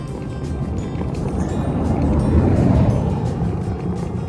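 Tires rattle and rumble over a rough, rutted desert road in Southern California during a bikepacking ride, a continuous gritty crunching with wind noise, swelling slightly in the middle.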